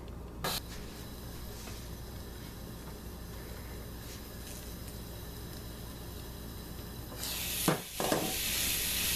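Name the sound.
portabella mushroom frying in a pan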